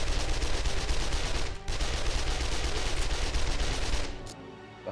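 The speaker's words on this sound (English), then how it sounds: "That was 2 magazines full of SMG that took to kill" Sustained SMG fire aimed at a bear in the video game 7 Days to Die, a dense, rapid stream of loud shots that runs without pause for about four seconds, then cuts off.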